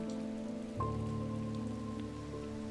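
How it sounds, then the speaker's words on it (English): Steady rain patters in the occult shop video game Strange Antiquities, a continuous soft hiss that carries on throughout over sustained tonal game music. "So it's currently raining,"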